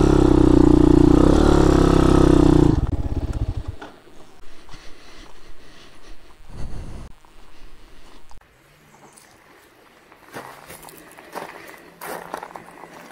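A small 190 single-cylinder thumper motorcycle engine runs loudly close by for a few seconds, then cuts off, leaving footsteps, scuffing and quieter outdoor noises.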